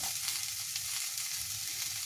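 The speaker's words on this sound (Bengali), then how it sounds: "এবার আলু টমেটো একসঙ্গে দিয়ে দেব" Potatoes and tomatoes sizzle and fry steadily in a hot pan, a close, even hiss of oil with faint stirring and no voices.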